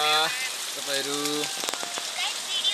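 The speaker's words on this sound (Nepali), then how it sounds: "हाम्रोमा चाहिँ यो वर्षा झरी बर्खाको मौसममा पानी परिरहेको छ" Steady monsoon rain patters on a surface as a soft continuous hiss, with a few brief tonal voice fragments early on.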